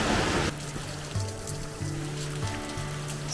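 Rushing water at Raven Cliff Falls in South Carolina, a steady broadband roar with no voices, joined by low tonal hum and a few brief knocks.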